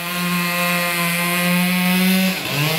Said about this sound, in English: Look at the ice sculptors at work. They're using chainsaws